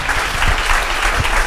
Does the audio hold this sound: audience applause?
yes